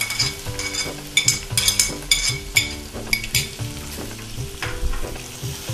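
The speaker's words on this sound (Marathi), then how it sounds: "आणि हिंग, कढीपत्ता आणि बारीक चिरलेला कांदा." Asafoetida, curry leaves and finely chopped onion frying in hot oil, a crackling sizzle with sharp spattering pops and metal utensil clinks at irregular intervals, close and moderately loud over soft background music.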